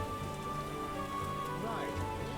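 Heavy rain in the video game The Witcher, a steady hiss of drops pattering on surfaces, continuous and even beneath tonal game sounds and faint voices.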